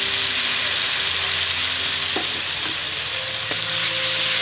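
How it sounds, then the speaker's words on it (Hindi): Tomatoes fry with beef liver and potatoes in a pan, giving a steady close sizzle with a few brief scrapes of stirring and no voices. "ये टमाटर शामिल कर रही हूँ।"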